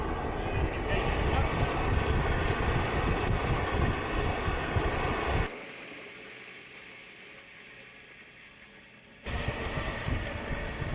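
A motorcycle powered by a Stirling engine runs with a steady loud drone and rushing air, drops away to a much quieter hum midway, then rises again near the end.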